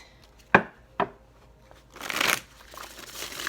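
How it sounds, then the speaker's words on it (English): A deck of tarot cards is handled with two sharp snaps, then a close, rustling riffle shuffle, with no talk over it. "one more shuffle"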